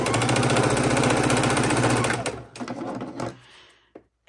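A sewing machine stitches across fabric for a soup bowl cozy, running in a fast, loud, steady hum up close for about two seconds before slowing to a stop.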